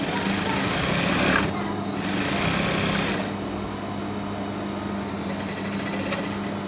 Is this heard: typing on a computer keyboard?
no